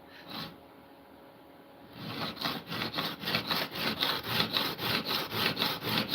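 A Japanese-style plane blade is rubbed back and forth on a diamond sharpening stone, giving a rhythmic, gritty scraping stroke roughly every third of a second, close and fairly quiet, after a short pause.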